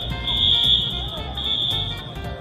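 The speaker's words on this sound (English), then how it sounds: "Again, the fire alarm going off." A school restroom fire alarm, set off by a kid smoking, sounds in two long, piercing high-pitched buzzing beeps over a busy murmur of voices and movement.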